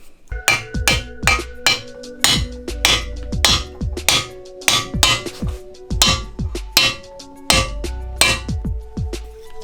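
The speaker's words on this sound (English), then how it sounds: "for the other balance shaft I used the 32 mil, just right there, and then hammer it in" Repeated metallic hammer strikes ringing out close by as a bearing is driven onto a 4G63 engine balance shaft, irregular bursts of sharp clanging blows with resonant ringing tones between them.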